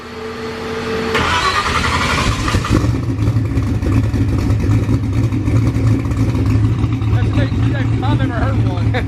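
An LS-swapped car fires up with a sharp crank and catch, then settles into a loud, rumbling idle with throaty revs close by, sounding like a street car.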